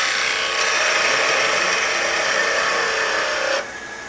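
A woodturning tool cuts along the underside of a wooden bowl spinning on a lathe, giving a steady, close scraping hiss that holds for about three and a half seconds before dropping off abruptly.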